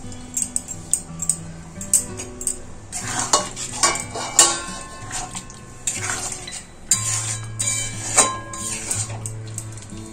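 A spoon stirs paneer cubes and capsicum through simmering gravy in a pan, with repeated scraping and clinking of metal against the pan over a soft bubbling sizzle.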